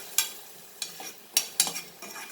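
Food frying in a little oil while being stirred, several sharp scrapes of a spatula against the pan over a light sizzle, close up and without voices.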